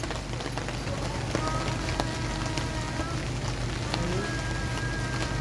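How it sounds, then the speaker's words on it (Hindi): Heavy rain falls steadily in a continuous, dense hiss with scattered drops striking surfaces close by. "बारिश आ रही है, बारिश तेज़ हो गई है।"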